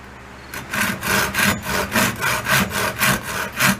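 A folding saw cuts through dry mulberry wood in steady, rhythmic strokes, about eight loud rasping passes close by after a brief quiet start, with a fan running underneath.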